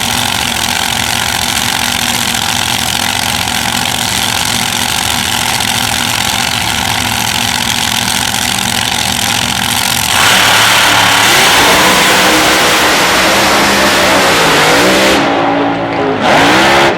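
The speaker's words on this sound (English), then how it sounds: "Decided to go with a flopper today. Fiberglass bodied funny car." At a drag racing event, the engine of a fiberglass-bodied funny car idles loudly and steadily, then revs up hard into a roaring, wavering blast that stays very loud and close.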